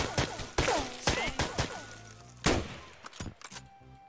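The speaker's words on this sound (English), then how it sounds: "I shot him." Gunfire in the Roblox game State of Anarchy: several sharp shots in an uneven burst over about four seconds, loud and close, with a few quieter pops trailing off.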